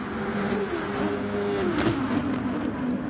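Super Formula race cars in a wet-weather racing video game, engines droning steadily and bogging down as they plough through standing water, with a faint pitch rise and fall mid-clip and no talk.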